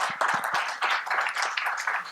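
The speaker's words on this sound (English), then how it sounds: "Please give them a warm applause." A conference audience claps for the speakers at the end of a session, a short burst of fairly loud, close applause with uneven individual claps.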